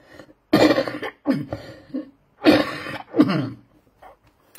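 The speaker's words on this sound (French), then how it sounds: "Au niveau de la toux, je tousse beaucoup" Several harsh, wet coughs come in separate bursts, two pairs close together, with quiet pauses between them.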